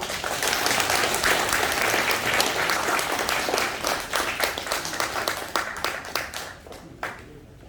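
Loud, dense applause from an audience at a meeting with a lawmaker at a welfare center for people with disabilities, sustained clapping that gradually thins into scattered claps and fades out.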